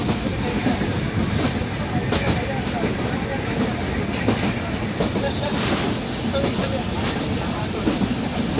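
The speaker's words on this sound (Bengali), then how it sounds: "বিলের ভিতর দিয়ে ট্রেনটি যাচ্ছে" A train rumbles past close by through an open wetland at night, steady rattling and clickety-clack of wheels on track, continuous and loud throughout.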